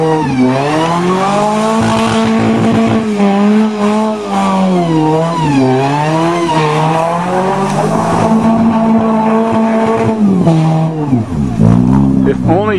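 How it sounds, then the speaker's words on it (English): Nissan 200SX doing reverse donuts on a muddy field: a loud, continuous engine roar that rises and falls in pitch as it revs and spins, with shouting voices over it throughout. "Reverse donuts! Reverse donuts!"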